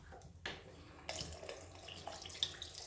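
Water runs steadily from a faucet or is poured into a houseplant, a soft continuous splashing with a slight surge near the start, fairly quiet and close, with no voices.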